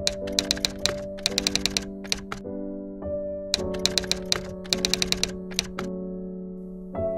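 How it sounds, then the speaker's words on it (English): Typewriter sound effect from a PowerPoint 2016 text animation: bursts of rapid mechanical key clacks in quick rhythmic runs, each ending with a sustained tonal ring, repeated several times close and clear with no voice. "So the letters, the animation, the typewriter sound, everything has been properly synchronized with each other."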